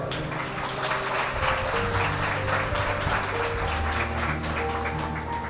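A worship meeting congregation claps loudly and steadily, a dense sustained burst of applause with organ-like musical tones held underneath.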